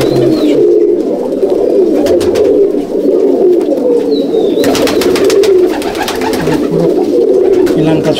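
A loft full of breeder pigeons keeps up a steady chorus of low cooing, overlapping calls rising and falling, with a brief burst of fluttering midway and a faint voice at times.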